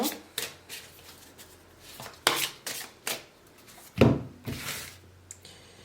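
Emotional oracle cards being handled and drawn, making a run of soft, close papery slaps and rustles at irregular intervals, with brief quiet gaps between them.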